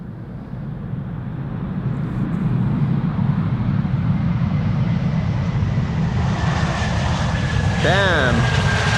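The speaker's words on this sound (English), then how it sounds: "Saudia 747." A Saudia Boeing 747 jet arriving at Schiphol Airport, heard as a loud, steady engine roar that builds and then holds, with a rising whine and a brief high-pitched sweep near the end.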